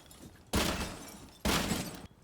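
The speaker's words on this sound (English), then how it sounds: "We're also going to want to break the glass in the display cases." Display case glass shatters in the video game Rainbow Six Siege, in two loud, close bursts of breaking glass about a second apart. Each crash has a sharp onset and then a crunching decay.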